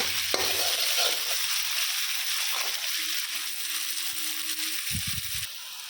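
Semolina upma frying and being stirred in a pan, with a steady close sizzle and soft scraping stirs throughout, ending in a brief louder clatter near the end.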